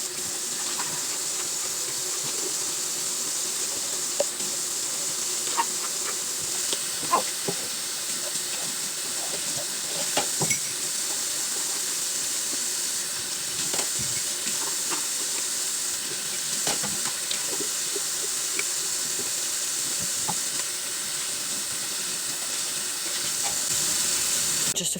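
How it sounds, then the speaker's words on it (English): Dishes are washed at a kitchen sink in an apartment: tap water runs in a steady hiss, with scattered soft clinks and knocks of crockery throughout and no talking. "So I'm gonna get a few dishes done first."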